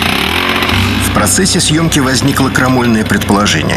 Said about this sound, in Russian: двигатель воздушного охлаждения, сзади мотоциклетного типа, тарантас, это шум невероятный